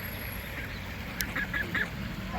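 Geese honking outdoors, a few short calls in a quick cluster near the middle, moderately close over a steady background hiss.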